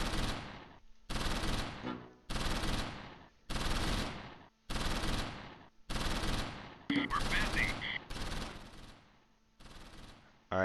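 Gunfire in the WWII tactics game Close Combat V, set in Normandy in June 1944: loud automatic bursts of about a second each repeat in a regular rhythm with short gaps between them.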